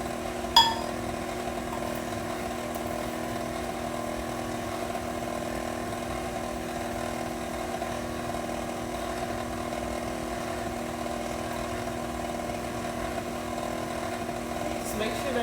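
An electric mixer steadily beats red velvet cake batter made with buttermilk and flour, a constant mid-level motor whir with a faint click near the start and no talking.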